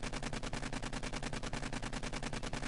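Rapid automatic gunfire rattles in the zombie survival video game 7 Days to Die, a steady, evenly spaced burst of loud shots running continuously without pause.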